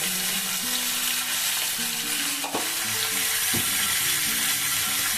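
Potatoes frying in a pan over a medium flame, a steady close sizzle and crackle throughout, with occasional scraping knocks from stirring.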